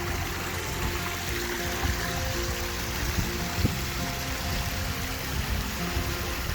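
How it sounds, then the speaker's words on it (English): A mountain stream in Torridon, Scotland flows with a steady, close rushing and trickling wash of water, continuous and even throughout with no voices. "We cross back over this stream"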